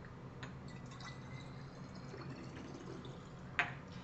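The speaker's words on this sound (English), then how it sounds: "we're just going to fill this up halfway with water" Water trickles through a funnel into a spray bottle for a homemade vinegar cleaning spray, a steady close pouring patter that ends in a brief sharper splash.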